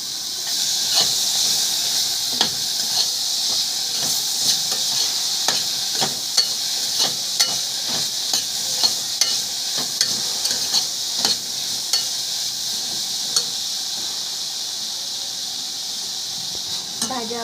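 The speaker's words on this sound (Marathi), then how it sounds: "मग परसबी आणि कॉर्न, टोमॅटो पण घालून घेऊया. ह्या मसाल्याला व्यवस्थित परतून घेऊया." Masala with peas, corn and tomato sautéing in a pan for instant khichdi; a loud, steady hissing sizzle runs throughout, punctuated by repeated spatula scrapes and taps against the pan.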